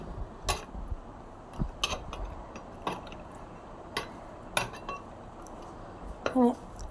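Metal utensils clink and scrape against a cooking pot as cooked rice is mixed and the pot is covered, scattered sharp knocks ending in a louder clank, with talk throughout.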